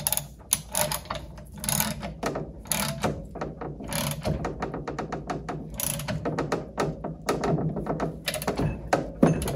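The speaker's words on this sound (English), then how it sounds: "I'm going to transition back to the ratchet." Ratchet wrench clicking on a Mercruiser Alpha outdrive lower unit during a rebuild, rapid runs of close, loud ratcheting clicks in bursts with brief pauses and occasional metallic clunks.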